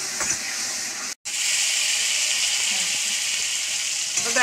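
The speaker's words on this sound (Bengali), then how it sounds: "এই যে 3 মিনিটের মতো আমি কিন্তু কষিয়ে নিলাম" Spice paste of coriander and chilli powder sautéing in oil with a little water in a pan for a tilapia curry, giving a loud, steady broadband sizzle that drops out for a moment, then resumes alone.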